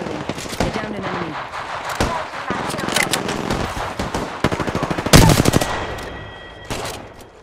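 Dense video-game gunfire with rapid automatic bursts and sharp single shots crackling throughout, loudest near the end, while voices talk over the shooting.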